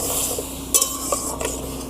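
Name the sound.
cauliflower frying in a pan with chopped garlic and ginger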